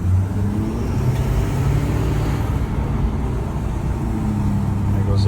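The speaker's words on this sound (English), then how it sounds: "There goes the exhaust brake," A 2011 Ford F250 diesel pickup rolls along with its exhaust brake engaged, a loud, steady low engine drone with a deep, even rumble that holds throughout, heard from inside the cab.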